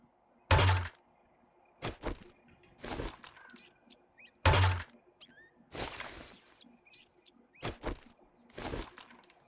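Weapons being reloaded in the survival video game 7 Days to Die: a series of sharp mechanical clacks and thunks, clustered in bursts with short gaps, close and fairly loud, with small clicks in between and no talk.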